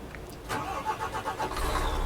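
An Irizar i8 bus engine in Euro Truck Simulator 2 cranks and catches at about half a second, then idles with a steady, uneven rumble, close and fairly loud, with no talking.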